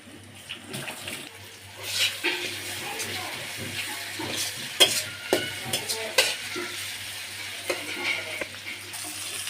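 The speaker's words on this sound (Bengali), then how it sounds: "চিংড়িগুলো ফ্রাই করে নিলাম।" Shrimp seasoned with turmeric, chili powder and salt fry in a pan, a close, continuous sizzle broken by frequent stirring scrapes, with a low hum underneath.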